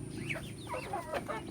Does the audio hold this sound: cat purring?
no